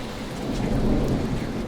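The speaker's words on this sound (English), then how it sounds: "It's pouring." Heavy pouring rain in a windy thunderstorm, a dense steady hiss of drops on surfaces over low rolling thunder rumble, loud and continuous throughout.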